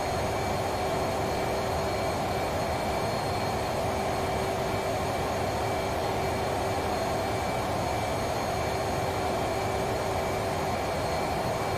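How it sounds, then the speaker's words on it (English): Aircraft engines running up to high power in the DCS World flight simulator, a steady dense roar with a sustained whine, constant and loud throughout with no talking. "Rev the engines up."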